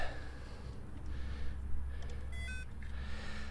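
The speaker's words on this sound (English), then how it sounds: "I got a beep." A short electronic beep from a multimeter rings out midway as it is connected to the battery of a 1970 Chevy C10 truck, a thin bright tone over a low background hum in a quiet room.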